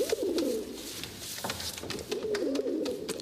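Pigeons cooing close by in two soft, rolling bursts with a short pause between, light clicks and rustles behind.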